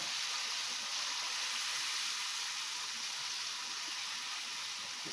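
Ground coriander and cumin frying in a pan for a vegetarian green jackfruit kofta curry, a soft, steady sizzle with hiss that runs unbroken and fairly quiet throughout, no voices.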